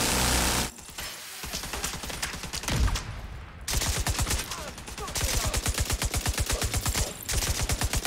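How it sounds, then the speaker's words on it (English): A minigun in The Division 2 fires in long, rapid, evenly pulsed bursts, loud and close. Short pauses break up the bursts, and a brief muffled lull comes near the start. "The minigun makes this way too easy."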